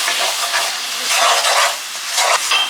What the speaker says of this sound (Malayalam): ശർക്കര ഇട്ടതിന് ശേഷം കുറച്ച് വെള്ളം ഒഴിച്ചു കൊടുക്കാം കേട്ടോ.